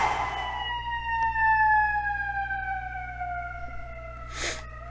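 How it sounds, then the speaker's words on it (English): A passing ambulance siren wails with a falling pitch as it moves away, fairly distant behind a steady low hum, ending with a brief burst of noise. "I'm going to wait till that ambulance goes by."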